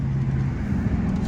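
A Dodge Charger Scat Pack's engine drones low and steady at night as it downshifts in a tunnel, a brief, close rumble of rising revs without any talking.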